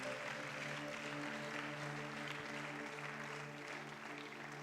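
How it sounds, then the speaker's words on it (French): A church congregation applauds for the Lord during a mass prayer service, producing steady sustained clapping. The clapping runs over a continuous droning tone from a keyboard or sound system. "Applaudissons pour le Seigneur Jésus-Christ."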